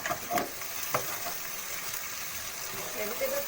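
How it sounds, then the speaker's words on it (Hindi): Vegetables frying in a pan for rice, a soft continuous sizzle with a few brief stirring knocks and faint bubbling. "सौते कर लेंगे वेजिटेबल्स को।"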